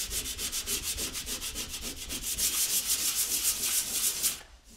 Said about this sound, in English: personally I just like to use a piece of sandpaper so I can feel what I'm doing.